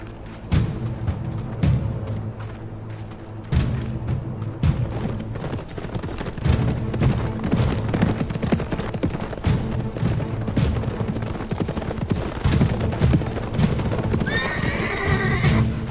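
Horses clip-clop steadily across ground in an outdoor setting, their hooves dense and continuous under a low rumble, with a horse neighing and whinnying near the end.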